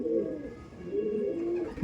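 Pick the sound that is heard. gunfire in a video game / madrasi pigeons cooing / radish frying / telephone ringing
madrasi pigeons cooing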